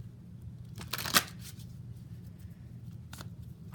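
Tarot cards are shuffled and a card is drawn, giving a quick soft riffle and a crisp snap in a quiet room, followed by a faint second rustle.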